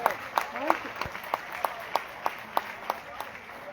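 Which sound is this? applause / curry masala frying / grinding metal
applause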